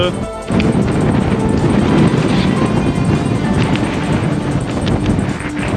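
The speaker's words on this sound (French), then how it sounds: "Oh là là, il y a un vent de taré." Loud, continuous crosswind buffeting the microphone of a cyclist at the Le Mans 24 Hours circuit, a rumbling roar that persists for several seconds.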